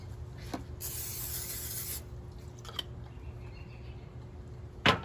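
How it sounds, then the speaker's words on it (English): A burst of non-stick cooking spray hisses into an air fryer basket for about a second, followed by quieter rubbing and a couple of short clicks and taps. "spray it with a non-stick cooking spray so the chicken wings don't stick"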